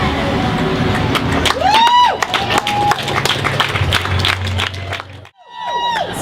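An open mic audience at a brew house claps and cheers loudly and steadily for several seconds, a dense crowd noise that drops out briefly near the end and then picks up again, with a voice calling out over it.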